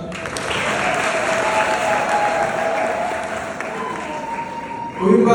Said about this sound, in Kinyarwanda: umwogera amashyi.